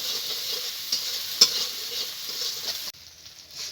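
Spice paste with salt and turmeric sizzles steadily in hot oil as it is stirred and sautéed, a close continuous frying hiss with soft scraping, the sizzle dropping abruptly near the end.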